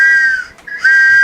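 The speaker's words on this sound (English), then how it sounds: "Tiny train whistle." A small, high train whistle toots twice, a steady shrill tone that briefly dips away between the two blasts, close and clear.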